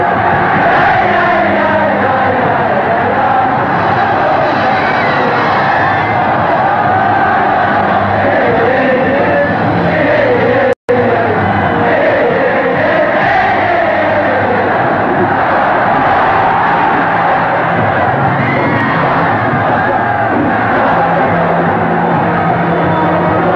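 A packed stadium crowd roars without pause at the 1982 Korea University–Yonsei annual match, a loud, dense wall of cheering and yelling from start to finish.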